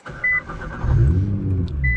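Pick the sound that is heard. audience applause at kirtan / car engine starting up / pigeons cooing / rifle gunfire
car engine starting up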